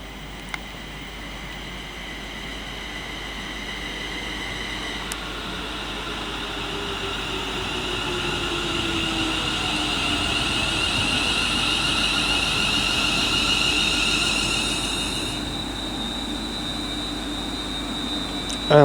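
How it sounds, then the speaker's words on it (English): A London Northwestern Railway eight-coach train, the Birmingham New Street to London Euston service, passes through Birmingham International station on the West Coast Main Line, a broad steady rushing roar with whining tones that swells and fades, heard with no talk. "we've got the 1025 London North Western Railway service from Birmingham New Street to London Euston. This train is formed of 8 coaches"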